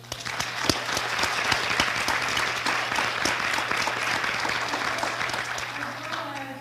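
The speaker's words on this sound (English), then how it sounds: "And you can have a round of applause." Visitors at a school board meeting receive a round of applause: many hands clapping in a continuous, moderately loud wash over a steady low room hum, fading slightly toward the end.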